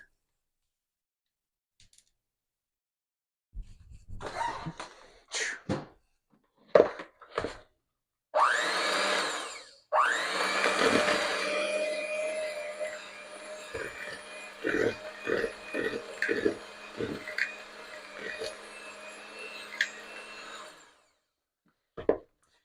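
An electric mixer on its lowest speed churns gluten-free Miss Jones monster cookie dough in a bowl, a steady close whirring motor broken by knocks and bumps as the dough shifts around, with scattered handling noises before and after.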